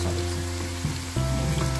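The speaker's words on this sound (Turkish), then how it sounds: "Bu sarımsakları yağda pişirme işi hala pişiyor." Garlic cooking slowly in oil, a steady low sizzle and bubbling that runs evenly throughout with no voices over it.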